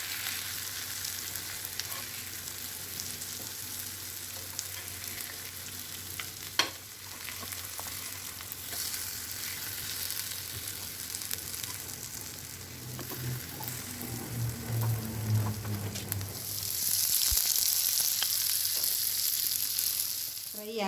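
Raw banana fritters frying in hot oil make a continuous close crackle and sizzle. A sharp clink comes near the middle, and the bubbling swells louder toward the end as the pieces are moved in the pan.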